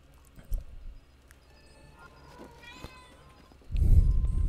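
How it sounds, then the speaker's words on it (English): A cat in a video game meows a couple of times amid quiet game ambience, followed near the end by a louder burst of low rustling noise. "the cat's back to remind me that she hasn't been fed yet"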